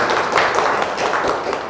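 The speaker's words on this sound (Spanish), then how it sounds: "le damos un aplauso muy fuerte" An audience applauds loudly after a public physics talk, close, dense clapping with distinct individual claps standing out as it continues steadily through the short stretch.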